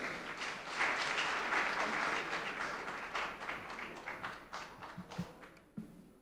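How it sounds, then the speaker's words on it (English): Studio audience applauding a guest on a Ghanaian talk show, a full round of clapping that thins into scattered claps near the end. "Another round of applause for her."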